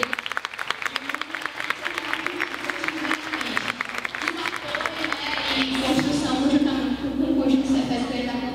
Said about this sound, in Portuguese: Então eu queria que a gente desse uma salva de palmas